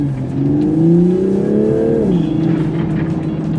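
A Toyota Supra's engine revs up close, the tone rising steadily for about two seconds and then dropping and settling into a steady drone, with a few faint crackles from the exhaust.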